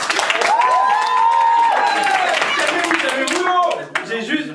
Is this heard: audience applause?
yes